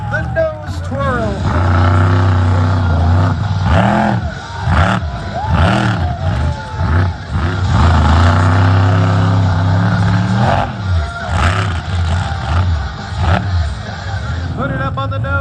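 Monster truck engine revving hard during a nose twirl stunt at a fall monster truck show, repeated rising and falling roars with an announcer talking over the noise throughout.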